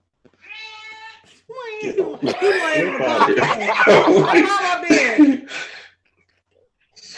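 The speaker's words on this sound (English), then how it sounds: "Don't take the cat with you." A cat gives a short, high meow near the start, followed by loud, lively talk and chuckling from several people that fills the rest of the clip.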